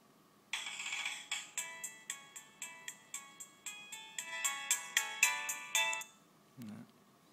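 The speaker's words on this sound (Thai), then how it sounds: "ตั้งเสียงเรียกเข้าอะไรพวกนี้ เสียงก็ค่อนข้าง ค่อนข้างดังใช้ได้นะลำโพง" A WellcoM A88 phone plays a ringtone through its speaker: a bright, regular series of chiming notes repeating for about five seconds, close and fairly clear, followed by a brief handling thump.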